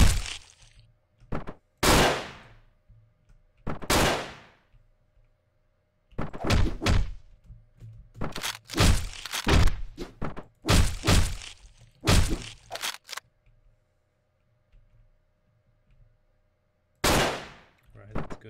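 Gunfire in the top-down shooter Hotline Miami 2: Wrong Number: loud, sharp shots come in irregular clusters, some fired in quick succession, separated by stretches of near silence.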